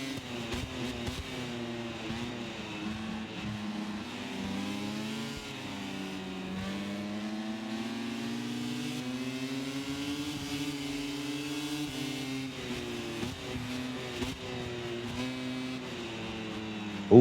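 A race car engine in a racing video game revs and shifts continuously, its pitch rising and falling through the gears as a loud steady drone with no voices.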